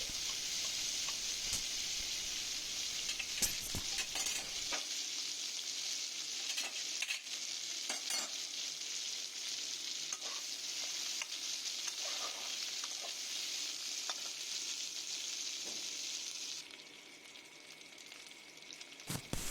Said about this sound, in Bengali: ওই সেদ্ধ করা জলপাইগুলো আমি কড়াইতে দিয়ে দিলাম। দিয়ে এটাকে একটু ভালো করে নেড়ে নেব।